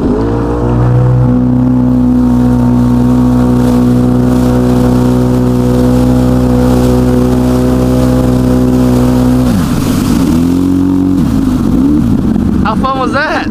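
A car engine droning steadily at a near, constant pitch while driving, holding level for about nine seconds before the revs drop and shift as it slows, with voices talking over the hum.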